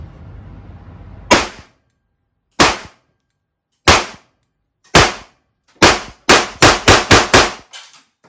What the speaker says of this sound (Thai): ขออนุญาตทดสอบปืนแบงกันนะครับ รบกวนอุดหูนิดนึงนะฮะ ครับทดสอบปืนเป็นการสิบนัดนะครับ